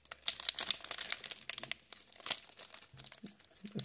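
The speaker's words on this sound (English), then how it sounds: "The Fusion Strike is never easy to open." A Pokémon Fusion Strike booster pack wrapper is worked open by hand, making quiet, close crinkling and crackling foil sounds with a few sharper tearing bits.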